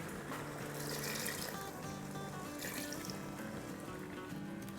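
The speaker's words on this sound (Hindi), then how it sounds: "थोड़ा सा पानी डालते हैं" A little water poured into a pot while cooking paya in an Instant Pot, a steady, soft trickling and splashing of liquid running for several seconds without any talk.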